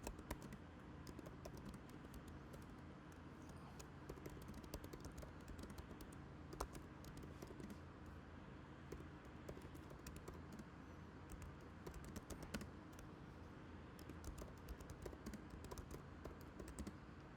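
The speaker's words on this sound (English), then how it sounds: "So here I am just typing like please find." Steady, quiet typing on a computer keyboard, with rapid irregular key clicks going on without pause and no voices.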